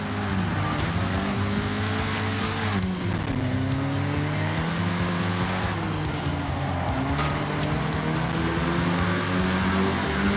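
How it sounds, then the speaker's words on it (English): A 1974 Honda Civic RS driving in Forza Horizon 6 gives a loud, steady engine drone that climbs and drops through repeated gear shifts, with brief tire squeal and no talking. "You would then have to wait until 1974 for Honda to produce its sportier model seen driving with us right now, the Honda Civic RS."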